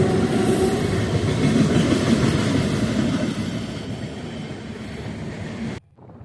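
A train rolling past a railway level crossing in Medinipur, a loud, continuous rumble of wheels and wagons with high squealing tones, fading slightly before cutting off abruptly.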